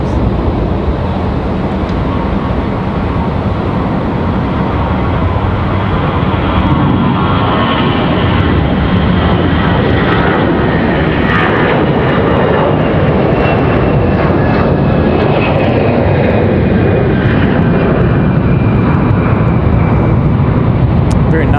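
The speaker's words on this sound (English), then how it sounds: "Sounding departure there, that A321" An American Airlines Airbus A321 departing Raleigh-Durham International roars loudly and continuously, a broad jet rumble that holds steady and slowly shifts in pitch as it climbs away.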